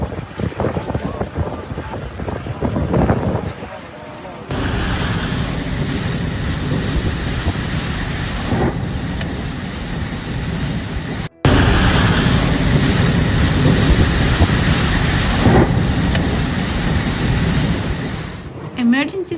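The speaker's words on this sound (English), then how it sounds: "In addition to the powerful winds, heavy rainfall led to severe flooding in several areas of Mecca." Roaring storm with powerful winds and heavy rain during severe flooding in Mecca, a loud continuous rush of wind buffeting the microphone and pouring water, with abrupt cuts between segments and voices faint beneath.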